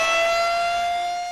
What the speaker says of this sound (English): Several of you saw the funnel, but never heard any warning sirens.